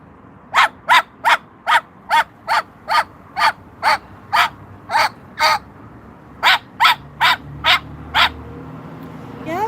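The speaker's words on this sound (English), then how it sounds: "Are you barking for Tango," A dog barks repeatedly outdoors in a steady, evenly spaced series of sharp, loud barks, pausing briefly before a second run of quicker barks, with no talking over them.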